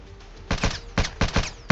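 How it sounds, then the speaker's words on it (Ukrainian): Gunfire in the Roblox game War Tycoon comes as short rapid bursts of shots, several clustered volleys close and loud over a quiet background, with no talk. "Не стреляй по нему. Ни по кому не стреляй, Макс."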